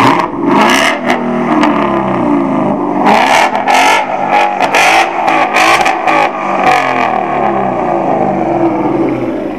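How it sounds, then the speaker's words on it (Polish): A loud Ford Mustang V8 engine revs hard several times nearby at a Mustang meet, its deep exhaust roaring and crackling between blips of the throttle. "można trochę przygazować?"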